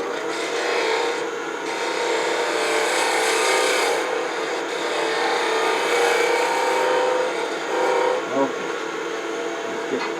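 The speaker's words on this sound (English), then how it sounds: "round over this profile a little bit before I move that center away" A wooden box on a woodturning lathe has its profile rounded over by a tool riding the bevel, giving a steady, continuous scraping whir that runs throughout at close range with small shifts in texture.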